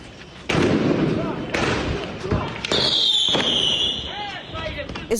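Sharp gunshots crack during a clash in Hebron, several loud reports spaced out close by, with a narrator speaking over them.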